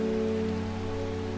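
Rain in the video game Strange Horticulture, a soft steady patter beneath a sustained tonal music drone, with no talk.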